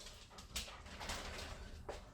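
A dog whimpers softly at a distance in a home kitchen, with a few faint whines and yips over quiet background noise.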